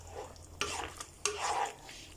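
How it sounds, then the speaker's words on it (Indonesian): Tomato sauce being stirred in a pan while making moussaka, with two sharp scraping bursts and a steady sizzle of simmering over a low background hum, no talking. "kemudian kita aduk"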